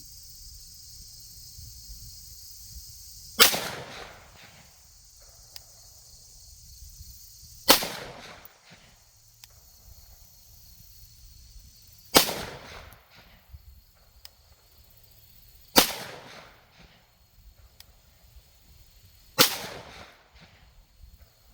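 A SIG M17 9mm handgun fires five separate shots of Winchester white box ammunition at a target, each a sharp loud crack spaced several seconds apart, with quiet outdoor background between rounds.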